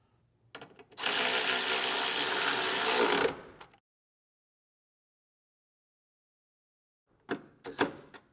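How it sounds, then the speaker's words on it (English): A power ratchet or drill drives 13 mm bolts on the bottom of a Porsche 996 radiator and fan assembly: one loud, steady whirring burst lasting about two seconds, then silence and a few brief clicks and knocks. "I'm just going to put in the last two 13 millimeter bolts on the bottom."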